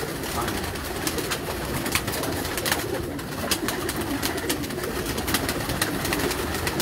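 Pearl-spotted pigeons in a breeding cage coo softly and repeatedly amid a steady bed of rustling and background noise, with sharp little clicks and flutters scattered throughout and a faint voice now and then.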